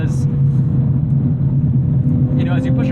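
A 2020 Nissan 370Z NISMO driven hard, a steady low engine rumble droning under someone talking throughout.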